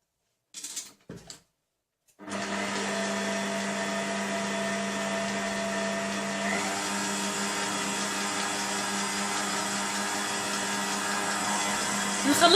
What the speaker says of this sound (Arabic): نخلط حتى نشوف العجينه ديالي ما تلصقش في البول